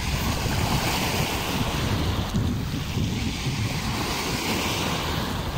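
Big ocean waves at Dolomite Beach, a continuous rushing surf mixed with gusty wind buffeting the microphone, loud and steady throughout with no voices.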